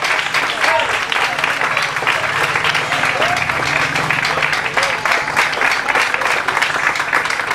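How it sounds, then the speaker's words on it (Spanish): Loud, sustained clapping from a church congregation offering applause to the Holy Spirit at an evening service, an unbroken rapid patter of many hands with a soft hum of voices mixed underneath. "Al aplauso al Espíritu Santo de Dios esta noche"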